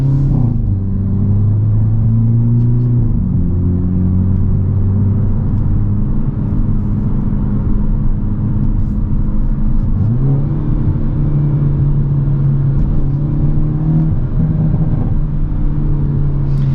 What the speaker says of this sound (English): there's a good amount of pops and crackles from this exhaust